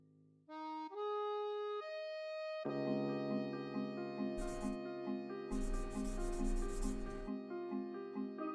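Two bursts of gritty hand sanding on a Gundam plastic model kit part with worn sandpaper, a short stroke and then a longer one, rasp over steady background music.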